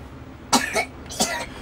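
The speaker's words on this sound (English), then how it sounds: "You're sitting there coughing to death." A person coughs twice, with a short gap between the coughs. Both are sharp and close, heard over a faint background hum during an indoor gaming session.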